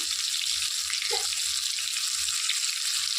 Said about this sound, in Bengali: এক এক করে এখন তেলের মধ্যে বেগুনগুলোকে ছেড়ে দিব। বেগুনগুলো একটু ভেজে নিতে হবে